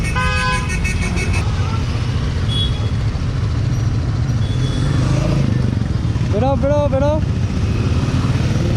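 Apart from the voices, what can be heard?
group of motorcycles starting off, horns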